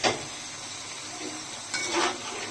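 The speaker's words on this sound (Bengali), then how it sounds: "এখন ফুলকপি আর সিম, বেগুন একসঙ্গে দিয়ে দিচ্ছি।" Cauliflower, flat beans and eggplant go into a pan of fried spice paste, giving a soft sizzle with a few clinks of utensil against metal, quiet and close, with brief louder scraping bursts.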